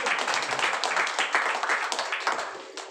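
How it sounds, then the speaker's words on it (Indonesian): Congregation applause during a Sunday church service, dense steady clapping from many hands at moderate distance, fading slightly toward the end. "Beri tepuk tangan dulu lah."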